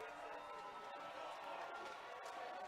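A steady crowd roar fills the Gas House during an Atlantic League South playoff baseball game between the High Point Rockers and Gastonia, a broad sustained wash of voices mixed with other faint speech.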